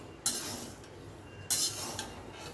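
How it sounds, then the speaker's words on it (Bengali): Flattened rice and salt dry-roasted in a pan, stirred with a utensil: soft scraping and rustling, with two brighter scrapes of metal against the pan, close and fairly quiet, no talk. "অনবরত কিন্তু নাড়তে হবে, নেড়ে নেড়ে চিড়েটা আর লবণটাকে খুব ভালো করে ভেজে নিতে হবে।"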